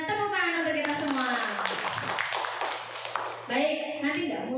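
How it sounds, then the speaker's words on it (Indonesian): An audience of teachers and parents claps together at a school talent-mapping session, a dense burst of hand claps lasting a few seconds amid voices, with speech before and after. "sebelumnya tepuk tangan untuk kita semua"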